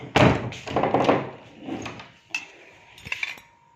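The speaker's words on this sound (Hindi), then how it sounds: "दरवाज़ा कर दिया मैंने फिर से बंद।" A household door being pushed shut in a home, with a series of wooden thunks and thuds followed by a final sharp latch click, close and fairly loud, with no talking.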